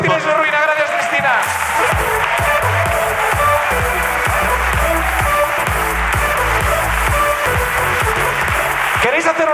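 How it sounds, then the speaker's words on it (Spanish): Applause for a guest named Cristina on a comedy podcast, crowd clapping mixed with a loud, rhythmic low-pitched musical beat, steady and close throughout. "Aplauso para Cristina y su ruina."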